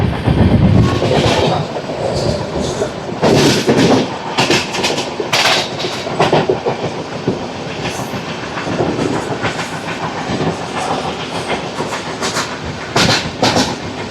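Inside the Repalle Express 17645 from Secunderabad to Repalle, a loud continuous rumble of the running train fills the coach, punctuated by repeated rhythmic clickety-clack wheel beats over rail joints.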